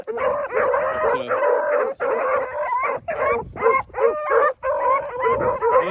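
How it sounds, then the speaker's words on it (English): Rabbit hunting dogs barking and baying outdoors, a near pack giving repeated loud howling barks and yips in overlapping bursts with brief gaps. "they both bark before the rabbit's up"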